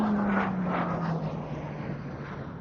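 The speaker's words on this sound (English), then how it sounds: "Britain's most successful post-war fighter, the main frontline RAF day fighter during the 1950s." A Hawker Hunter jet fighter passes at an air show, its engine a broad roar with a slowly falling pitch as it moves away, steady and moderately loud throughout.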